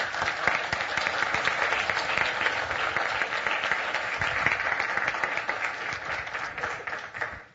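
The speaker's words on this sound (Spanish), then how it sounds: "Dale un aplauso a Dios por eso." A church congregation breaks into sustained applause, dense steady clapping from many hands filling the room for several seconds before tapering at the end.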